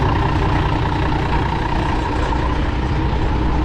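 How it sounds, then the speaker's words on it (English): A Minneapolis Moline G708 tractor engine runs at a steady idle, a loud, close, low throbbing drone that holds constant with no breaks or voices. "Tractor runs really good."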